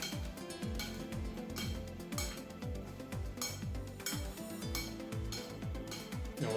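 A spoon scrapes and stirs fried courgettes seasoned with crushed Guérande salt in a pan, giving steady clinks and scraping strokes in a repeating rhythm under a constant frying hiss.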